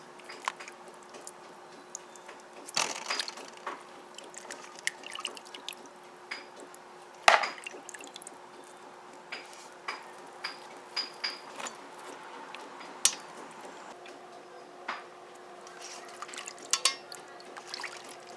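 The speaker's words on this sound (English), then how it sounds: "So we're just gonna give it a last little rinse here now and take off whatever fat there is." Washed beef, cleaned with lime and vinegar, gets a final rinse while fat is trimmed off, giving scattered wet squishes, drips and splashes against a quiet background hum.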